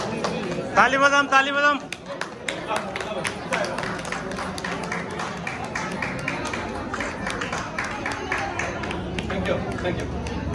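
An audience at a ward honour ceremony in Pokhara claps in a dense, steady patter of hand claps, with a voice heard briefly at the start.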